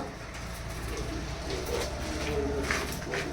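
Pigeons coo softly in a loft, with low murmuring calls faintly layered over a steady background hum and no one speaking.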